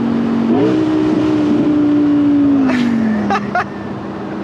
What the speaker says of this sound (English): listen to this crackle into second.